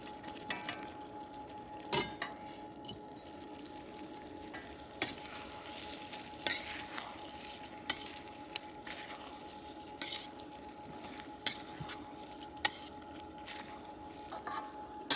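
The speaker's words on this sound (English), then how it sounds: "then we're going to put the ribs in it" Pork spare ribs frying in a pan with cooked-down tomatoes and green onion, a quiet, steady sizzle broken by scattered clicks and scrapes from stirring.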